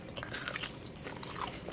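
Quiet, close crunching bites and chewing of Shake Shack fries, a short burst of soft crisp mouth sounds.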